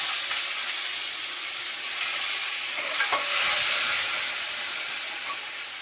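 Cumin, garlic and curry leaves sizzle in hot oil with a loud, steady hiss that holds evenly, swells slightly midway and eases off at the end.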